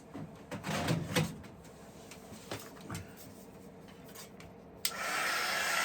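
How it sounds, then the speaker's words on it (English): A hair dryer switches on near the end and blows a steady, loud whoosh for drying paint on a canvas, following quieter rubbing and handling noises. "So let me get my dryer and we're going to dry this."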